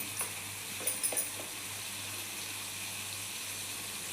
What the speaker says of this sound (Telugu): ఇప్పుడు ఈ మసాలా అంతా మంచి ఆయిల్లో వేగింది కదండి